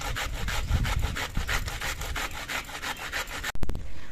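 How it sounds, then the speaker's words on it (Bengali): Young pointed gourd (potol) rubbed against a hand grater in quick, steady back-and-forth rasping strokes, close and continuous, ending with a brief clatter. "আমি সবগুলো পটলই ঘষনি দিয়ে ঘষে নিয়েছি"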